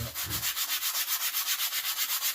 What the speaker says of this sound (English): basically a sponge with sandpaper wrapped around it. Special kind of abrasive for stone